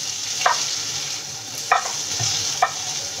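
Potatoes for jeera aloo frying in a pan with amchur and garam masala, a steady sizzle under three distinct scraping stirs spaced about a second apart, close and moderately loud.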